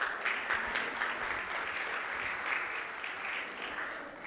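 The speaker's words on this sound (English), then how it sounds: "I would like to encourage each and every one of you to give him another round of applause" A school audience claps steadily for a speaker at a reading-week awards celebration, producing a dense, even round of applause throughout.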